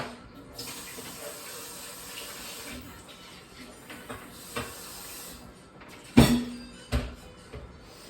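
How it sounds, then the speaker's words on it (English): Tap water runs steadily and softly into a kitchen sink while a utensil is rinsed during mole cooking, ending with a couple of sharp clatters near the end. "let me rinse this real quick"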